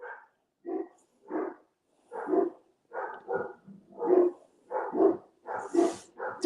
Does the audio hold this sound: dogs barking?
yes